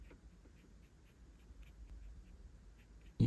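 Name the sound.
pencil drawing and shading a nose shadow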